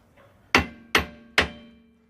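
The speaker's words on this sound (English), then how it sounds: "a little bit of tapping with the hammer up and down, top to bottom" Three sharp hammer blows ring out about a second apart, each with a metallic decay, striking a seized rear wheel bearing hub on a Pontiac Aztek or Buick Rendezvous during removal.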